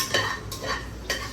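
Whole spices such as cinnamon, cardamom and cloves are stirred in ghee for prawn biryani, giving a soft sizzle broken by three brief scraping strokes of a spoon against the pan.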